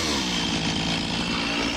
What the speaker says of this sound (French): avec la tronçonneuse, j'essaie d'arriver le plus proche du trait de cordex